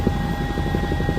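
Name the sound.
medical helicopter flying in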